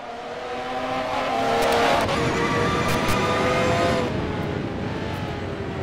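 Jaguar race cars racing at Spa, a loud continuous engine roar with tire squeal as the cars brake, swelling and then easing slightly.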